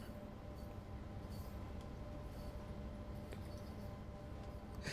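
Steady rumble of an Amtrak Superliner train in a video game, a continuous rolling rail drone with faint squeaks and clanks throughout, no talk.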